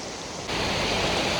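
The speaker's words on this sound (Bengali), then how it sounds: "প্রচুর প্রচুর বৃষ্টি" Heavy rain pouring down during a violent storm: a dense, steady roar of rainfall that suddenly grows louder partway through, with no voices.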